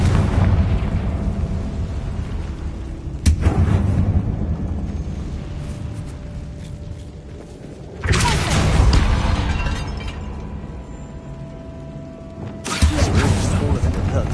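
Bombarda and Confringo spell blasts in a video game, three loud sudden explosions spaced several seconds apart, each bursting sharply and then fading into a rumbling decay.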